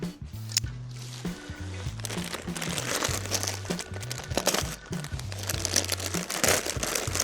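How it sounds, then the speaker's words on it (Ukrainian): A plastic package of fishing tackle crinkles and rustles as it is handled and opened, with steady background music playing underneath. "Скриваємо пакетик."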